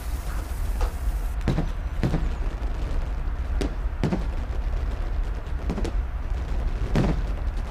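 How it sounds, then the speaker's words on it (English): Fireworks bursting in the VR fishing game Real VR Fishing, about six sharp booms spaced every second or so, moderately loud over a steady background hiss. "I was not expecting the fireworks."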